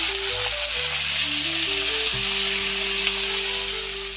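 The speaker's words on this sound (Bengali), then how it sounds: "পেঁয়াজ, একটু জিরে দিয়ে, তেজপাতা দিয়ে ভেজে নেব।" Onion, cumin and bay leaf frying in a pan, a steady close sizzle throughout, with tonal humming from another source layered over it and no speech.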